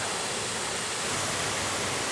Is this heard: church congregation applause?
no